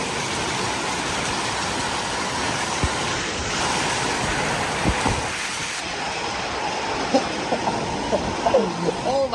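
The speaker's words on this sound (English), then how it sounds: "That was a big old gust." Strong gust from a morning squall line with wind and rain, a steady, loud, broadband roar of wind buffeting the microphone throughout with a few brief bumps.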